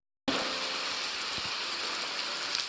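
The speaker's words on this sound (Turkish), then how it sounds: "bazen sağanak yağmur falan da başlayabiliyor arkadaşlar" Heavy downpour in a video game, a steady dense hiss of rain that sets in abruptly and holds loud and even throughout, with no voices over it.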